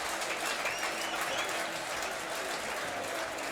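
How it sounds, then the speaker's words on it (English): Rugby crowd at the Scottish Varsity Match between Edinburgh and St Andrews universities gives an injured player a standing ovation, steady sustained applause and clapping filling the whole stretch. "Here he is getting a standing ovation from the crowd."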